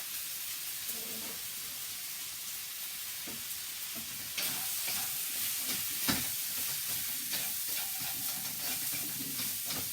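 Stir fry with spices and pepper sizzles in a pan, a continuous hiss that grows louder midway as more food goes in, with scattered stirring scrapes, close and steady, no one talking.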